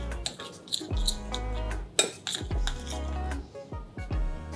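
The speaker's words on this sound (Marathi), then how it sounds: "हे सगळं व्यवस्थित मिक्स करूया." A spoon scrapes and clinks against a metal bowl while mixing spices, besan and salt for a tandoori potato biryani marinade, giving close, irregular knocks and scrapes in quick bursts with no voices.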